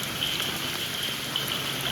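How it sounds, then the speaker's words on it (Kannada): Misty rain falls steadily nearby, an even, dense patter of drops on surfaces that holds a constant level, with no voices. "ಇದು ಮಂಜು ಮಳೆ ಬಾಯ್ಸ್."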